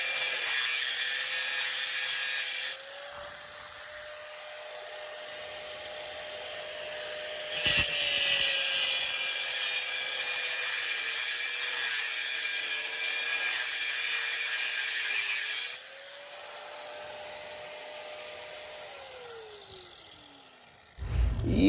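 An angle grinder cuts through a rusted nut with a sustained high whine and gritty grinding, its pitch dipping under load and rising again, close and loud, winding down at the end.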